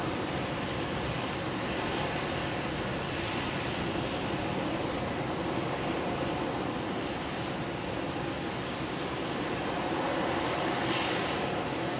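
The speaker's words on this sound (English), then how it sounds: "Engine's running." A Dash 8 turboprop sitting at Brisbane International Airport with its engines running, a loud, steady, continuous roar with no break.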